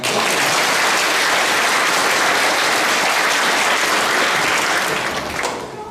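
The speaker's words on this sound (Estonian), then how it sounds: "Innustame, aga särtsaka aplausiga" Lively, sustained clapping fills a hall at a school Christmas party, a thick wash of many hands at constant strength that tapers slightly at the very end.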